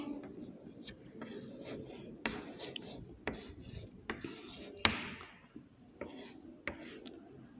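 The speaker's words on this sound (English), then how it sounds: "So we have to write this number next." Writing a number by hand during a mathematics lesson, irregular taps and scratchy strokes at close range, with soft speech faintly present.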